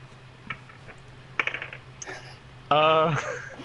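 Sparse keyboard clicks from someone typing at a computer, a few quiet taps scattered in short bursts, followed by a louder tonal sound near the end.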